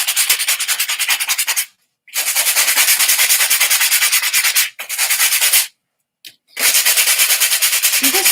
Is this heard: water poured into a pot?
no